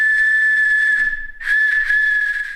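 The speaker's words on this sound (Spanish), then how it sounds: "Tortuga silbato." A turtle-shaped burnished clay whistle from Mexico sounds a pure, steady high tone twice, the second blast breathier and slightly fluttering, close and loud.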